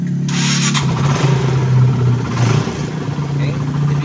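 A Honda CS1 motorcycle engine idling close by after starting, a loud steady low putter that swells briefly as the throttle is blipped, with a person talking over it.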